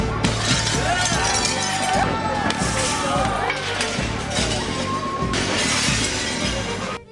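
Glass storefront windows of corporate stores are smashed during a street protest, with loud shattering and clinking crashes repeating amid crowd noise and shouting voices.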